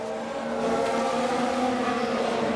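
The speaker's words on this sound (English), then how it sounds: "Mick Schumacher going for the overtake on Perez." Formula One cars in the F1 22 racing game as one driver tries to overtake another, a steady loud engine whine holding a sustained high pitch with no voices.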